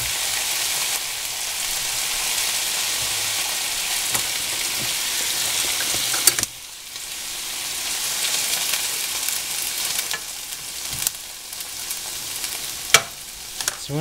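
Pieces browning in hot oil give a loud, even sizzle that dips briefly, then carries on with scattered crackles and spoon knocks.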